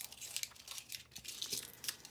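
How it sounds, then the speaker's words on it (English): Small pieces of paper being crumpled up tightly by hand, a continuous close crinkling and rustling with quick irregular bursts and no talking. "I just took little pieces of paper, wrote the numbers 10, 11, 12, 13, 14, 15, 16, 17, 18, and 19. And I'm going to crumple them up real small."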